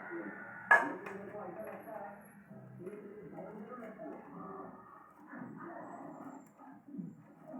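One sharp, close knife cut through a vegetable on a board while cooking, followed by someone talking over quieter handling noises.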